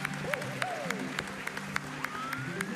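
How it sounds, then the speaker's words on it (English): An audience at a live Super Mario 64 randomizer speedrun event claps for the runners with steady applause. It sounds moderately distant and carries faint voices underneath. "let's get another round of applause for our runners."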